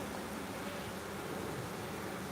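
Honey bees buzz around an open beehive, a steady dense hum of many wings close by, continuous and even with no voices over it.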